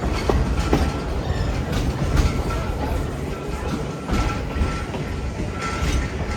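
A Great Smoky Mountains Railway train near Bryson City rolls steadily along the rails with a continuous rumbling roar and occasional faint clacks, loud and close throughout.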